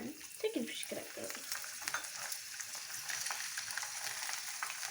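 Fish crackers frying in hot oil in a frying pan, giving a steady, dense crackling sizzle that stays fairly quiet throughout, with a few low bubbling pops near the start.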